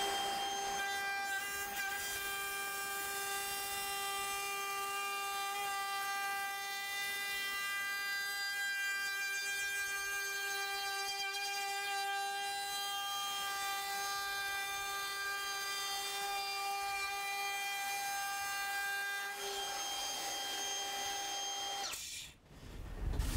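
A power tool cuts a bevel on a wooden sign with a steady, high, whining hum held for about twenty seconds at close range, then spinning down and stopping at the end, with no talking.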